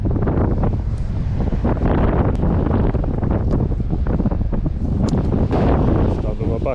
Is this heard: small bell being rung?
no